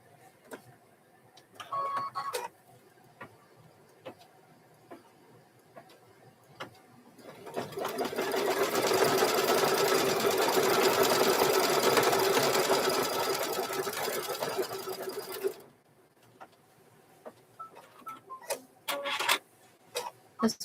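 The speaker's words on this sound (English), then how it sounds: "Make sure that we are not stitching any of the other sweatshirt here." A sewing machine runs in one steady, loud burst of stitching through hoodie sweatshirt fabric for about eight seconds, with quieter handling noises and light clicks before and after.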